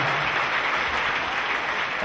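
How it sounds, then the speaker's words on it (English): A church congregation claps for Jesus, steady dense applause filling the room for a couple of seconds with no voices over it. "Clap for Jesus Christ. Clap for Jesus."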